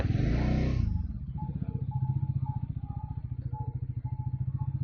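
A Bajaj Dominar motorcycle engine idles with a steady, rhythmic putter after a louder opening burst, close by and continuous.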